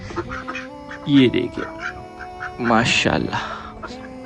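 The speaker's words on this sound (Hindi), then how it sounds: "इसके अलावा माशाल्लाह से हमें मुर्गी और बत्तख भी लेकर आए हूँ।" Ducks quack on a small farm that also keeps chickens, with two loud bursts of calls among softer chatter while someone talks over them.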